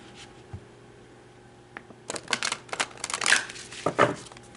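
Tarot cards are shuffled, with a few soft riffling bursts and crisp card flicks close by in a quiet room.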